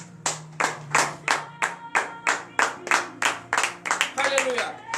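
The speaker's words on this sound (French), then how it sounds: "veuillez vous lever sur vos pieds et donner de vive acclamation à l'Éternel" Congregation clapping in praise at a morning prayer service, about a dozen loud rhythmic claps in steady time with voices faintly underneath.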